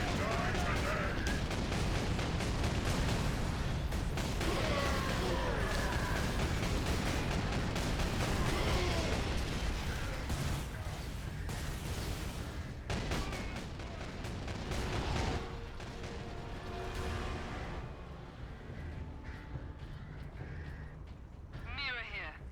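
Autocannon fire in Warhammer 40,000: Space Marine comes as loud, dense rapid bursts with booming impacts and explosions, continuing throughout under chaotic battle noise and talk.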